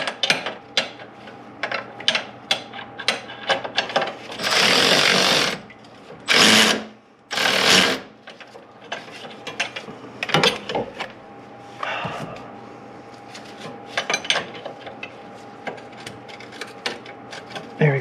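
A hand ratchet works during a head gasket job on a 2002 Chevy Corvette, giving sparse, quick clicking bursts between bouts of mechanical whirring and brief louder noises, fairly close and without voices.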